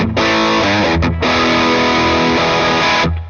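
A Fender Super Sonic 22 guitar amp head runs with gain 1 turned up and gain 2 turned down, giving a loud, dense, distorted electric guitar tone that holds steady chords for about three seconds with a brief dip near the middle.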